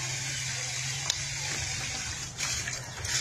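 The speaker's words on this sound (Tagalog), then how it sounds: "Daming tubig." Water gushes steadily through a strainer full of rocks being washed and sampled for gold, a continuous close splashing hiss with no talk.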